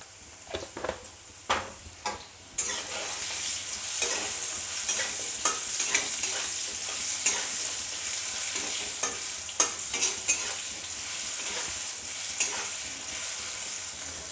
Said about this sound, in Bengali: আলুটাকে আমি নুন হলুদ দিয়ে লাল লাল করে ভেজে নেব